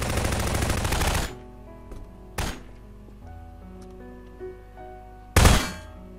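Bursts of automatic rifle fire in the game Prop Hunt: a loud rapid volley at the start, then a single short shot and a second sharp burst later, separated by quieter game ambience with no speech.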